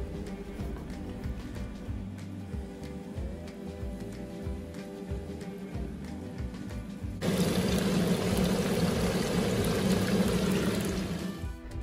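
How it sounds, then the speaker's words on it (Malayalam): Marinated chicken pieces frying in hot oil in a pan for chicken dum biryani. After a quieter stretch with background music, a loud, steady broadband sizzle starts abruptly and continues to the end. "ഓയിൽ ചൂടായി കഴിഞ്ഞാൽ നമുക്ക് നമ്മൾ ചിക്കൻ വറുത്തു പോരാം"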